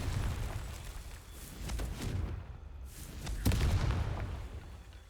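Confringo blasting spell smashing rocks in the Hogwarts Legacy video game, a few heavy booming explosions with rumbling low-end bursts and crackling debris amid steady game ambience.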